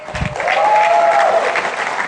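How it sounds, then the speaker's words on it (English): An audience at an evening celebration honouring Sachin Tendulkar's 100th century bursts into sustained applause, a dense, loud wash of clapping that fills the room, with a faint thin whistle-like tone running through it. "a big applause for Sachin"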